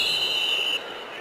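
A referee's whistle at an NFL preseason football game between the Bills and the Broncos gives a sustained shrill blast that cuts off, over a crowd murmur.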